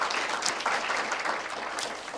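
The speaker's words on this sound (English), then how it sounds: "let's give them another round of applause" Applause for middle school speech contest participants: a dense, continuous clapping from an audience in a hall, steady and moderately loud throughout.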